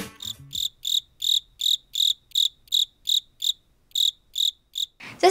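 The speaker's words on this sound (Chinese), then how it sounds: "这是一种昆虫。 那它在迪士尼动画电影《花木兰》里面有出现过哦。 答案是蟋蟀。" A cricket chirps in a steady run of about a dozen evenly spaced, bright, close-up pulses with short gaps between them, followed by a brief noisy rustle at the very end.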